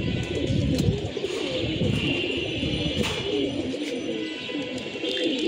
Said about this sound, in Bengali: এই হচ্ছে মাদি কবুতরটি।